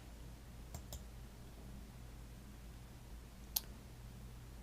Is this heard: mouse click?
yes